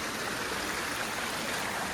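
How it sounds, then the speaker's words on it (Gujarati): Water from the Pavagadh waterfall stream flows in the monsoon forest with a steady broadband rush, continuous and fairly distant, with no voices. "અહીંયાથી વહેતું પાણી આગળ જાય છે"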